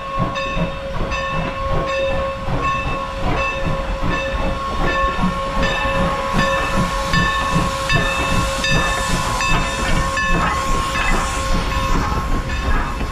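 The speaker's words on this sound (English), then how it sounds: "this is an old steam engine coming into the station right now" Loud old Norfolk and Western steam locomotive rolling into a station, with hissing steam, rhythmic chugging and a sustained whistle tone held throughout, close by.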